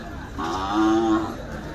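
A breeding bull at a livestock fair gives a single loud, close, drawn-out low moo lasting about a second, with no voices over it.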